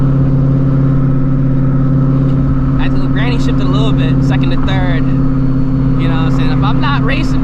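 A 900hp Shelby GT350 pulls hard from inside the cabin, its loud steady engine drone rising as it shifts gently from second to third gear, with a voice talking over the engine noise.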